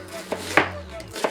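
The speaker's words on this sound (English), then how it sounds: "cut your onion, cut them into 3" A knife chops a Vidalia onion on a cutting board, with three crisp, close thuds spread unevenly across a short moment over a low steady hum.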